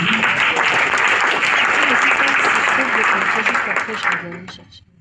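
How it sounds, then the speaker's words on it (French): Audience applause at a book launch ceremony for a political economics book, a loud sustained round of clapping with voices mixed in, holding steady for about four seconds before tapering off quickly. "est-ce qu'on peut encore applaudir?"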